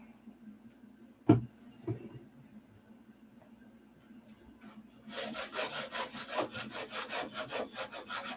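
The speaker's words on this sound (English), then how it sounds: "you got to sand something" Hand sanding of wood: after a couple of knocks, a rhythmic series of rasping back-and-forth strokes, close and moderately loud, repeating steadily to the end.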